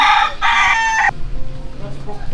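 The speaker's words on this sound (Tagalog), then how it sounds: "Daghan na kay mga nakalansad nga mga manok." A rooster crows once loudly and close in a Cebu City cemetery where people live among the graves, a harsh cock-a-doodle-doo lasting about a second, followed by quieter clucking and faint background activity.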